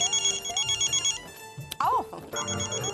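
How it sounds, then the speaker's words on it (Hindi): A telephone ringing with rapid repeated electronic bell trills in an indoor comedy TV serial scene, the ringing pausing briefly as other noises and a voice break in, then resuming. "आओ, मोनिका का फोन है।"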